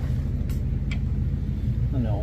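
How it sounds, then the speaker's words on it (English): A noisy vehicle passes by outdoors, its low engine rumble dominating steadily throughout, with faint higher sounds briefly cutting through. "I'm complaining about noisy vehicles."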